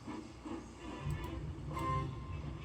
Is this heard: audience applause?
no